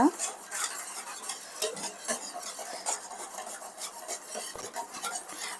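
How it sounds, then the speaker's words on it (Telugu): Mysore bonda batter is stirred with water in a bowl, a spoon scraping and slapping through it in quick, uneven strokes, close and fairly loud with no voices. "సో వీటినన్నిటిని బాగా మిక్స్ చేసుకోవాలండి అంతా బాగా మిక్స్ అయిపోవాలన్నమాట"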